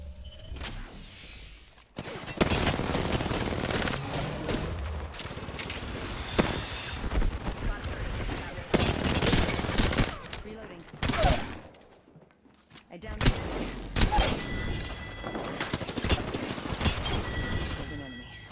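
Bursts of gunfire crackle through a shooter video game firefight, several loud volleys separated by short gaps, with in-game voice lines heard over them.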